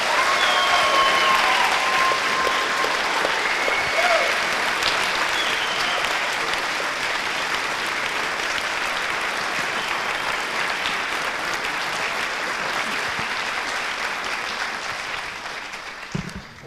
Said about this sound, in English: would you give a warm round of applause for our seniors?